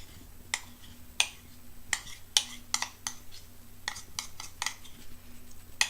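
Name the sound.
scraping leftover chocolate from a bowl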